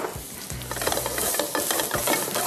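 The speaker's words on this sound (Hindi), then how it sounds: "थोड़ा सा ये फ्राई हो जाए हल्का सा" Chopped garlic frying in a pan, a bright steady sizzle with repeated scraping stirs of a spatula throughout, close and fairly loud.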